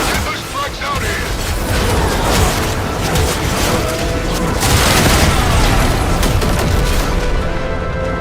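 Frag grenade explosions in the video game Warframe erupt in a dense, continuous barrage of booms and rumbling blasts that fill the scene loudly, with a voice speaking over the chaos.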